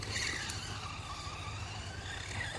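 A Stampede RC truck runs on a dirt track in the woods. Its electric motor whines faintly and wavers in pitch as it drives, with a brief rattle early on, and no voices.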